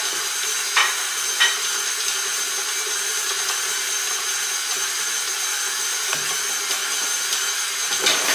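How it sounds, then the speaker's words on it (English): Flour and salt for a chocolate chip crumb cake topping being stirred together in a bowl, a steady soft scraping rustle with a few sharper clicks of the utensil, close by and without talk. "Then you're gonna mix it with this a little bit."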